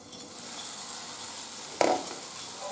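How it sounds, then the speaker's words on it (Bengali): Tomatoes simmering in a lidded pan give off a steady low sizzle, then the lid is lifted and a single sharp clatter and scrape of stirring cuts in near the end, with no talking. "তো ঢাকনাটা খুলে আমি একবার নেড়ে দিলাম"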